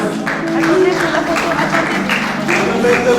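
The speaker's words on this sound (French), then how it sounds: "Nous sommes de l'accueillir pour l'applaudissement." Crowd applause at a public gathering in Kinshasa, a dense patter of clapping hands mixed with voices and talk over the top.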